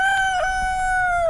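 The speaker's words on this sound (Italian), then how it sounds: "È un gallo." A rooster crows in one long, loud, sustained call with a strained, wavering pitch, standing alone over a faint background rumble.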